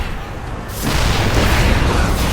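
A siege tank is shot and destroyed in a StarCraft II match: a sudden heavy boom erupts after a brief lull, then swells into a loud, sustained rumbling blast that fills the rest of the moment.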